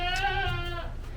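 A single goat bleats once nearby, a short wavering cry lasting about a second, alone over faint outdoor background noise.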